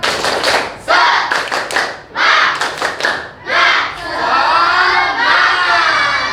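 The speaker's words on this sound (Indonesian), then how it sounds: "Sebelum kita menutup, tepuk semangat." A group of children claps in bursts of quick rhythmic patterns, with shouted chanting between and a loud cheer near the end.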